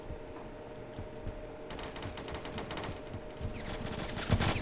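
Gunfire from a shotgun in the Roblox shooter Phantom Forces: bursts of sharp, broadband reports start partway through and come loudest near the end, over a steady background of game noise.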